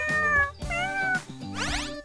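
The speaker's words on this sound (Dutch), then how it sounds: "Foto met een kat." A cat gives three drawn-out meows in a row, loud and close, each a wavering tonal cry separated by short gaps, with no talk over it.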